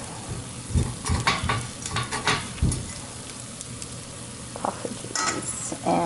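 Ebleskiver batter frying in a round-welled pan, with steady sizzling, scattered soft scrapes and taps as the balls are turned, close and fairly quiet throughout.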